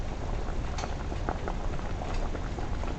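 Jamaican-style stew pork simmers in a pot, giving a steady close bubbling with soft irregular pops and gurgles and no voices.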